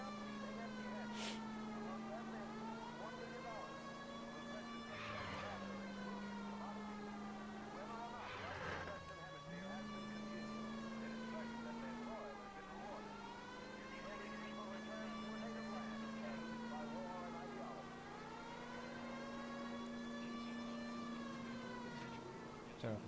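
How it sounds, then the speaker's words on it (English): Police car siren in the L.A. Noire video game, a continuous wailing tone rising and falling in long sweeps over engine and street noise, steady and fairly close. "Turn off the siren."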